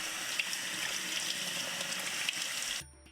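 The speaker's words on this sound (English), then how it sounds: "Rinse several times with cold water after you've soaked it with the lemon or lime" Cold tap water runs steadily over shrimp that were soaked in lemon or lime, a constant splashing rush into the sink that cuts off abruptly just before the end.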